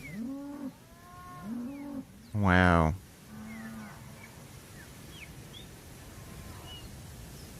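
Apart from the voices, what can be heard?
cows mooing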